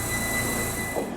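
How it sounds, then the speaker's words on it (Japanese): A 283 series Ocean Arrow Kuroshio train arriving at Gobo station, heard as a loud, steady rumble with a high whining tone that fades slightly at the end. "283系オーシャンアローな黒潮号は30分で御坊駅に到着"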